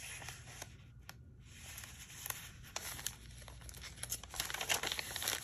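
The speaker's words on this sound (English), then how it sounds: "This is tracing paper that I color. I put it in a lot of the journals that I make. Very crinkly." Colored tracing paper in a handmade journal crinkles and crackles in close, continuous handling, with sharp rustles and snaps that grow busier toward the end.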